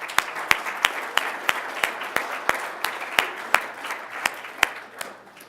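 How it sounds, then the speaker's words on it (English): A conference audience gives a round of applause, a dense wash of clapping with sharp, regular claps standing out close by, sustained without a break and easing slightly toward the end. "can we give a round of applause to yesterday's speakers?"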